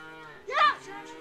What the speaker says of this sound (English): I'll be there in a minute, cows.